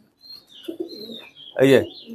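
Pigeons in a loft in Mirpur coo and call in short bursts, with one louder, fuller burst near the end and a thin high tone drifting through the background.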